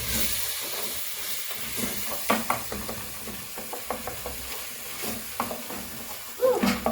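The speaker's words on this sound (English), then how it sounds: "Keep stirring and try to break the bigger particles of tomatoes." Tomatoes frying in a pan while being stirred, a soft continuous sizzle broken by scraping spoon strokes and small clicks, close up and without speech.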